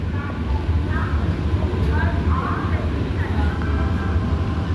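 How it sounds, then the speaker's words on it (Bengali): Krishnanagar City AC EMU local train pulls into Barrackpore station, a continuous low rumble of wheels and carriage with faint squeals, heard from inside the coach at moderate level. "ট্রেন প্রবেশ করলো ব্যারাকপুর রেলওয়ে স্টেশন।"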